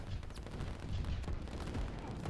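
Battle din from a Line War strategy game skirmish: a steady, dense barrage of overlapping gunfire and artillery volleys, continuous and moderately loud throughout with no clear pauses.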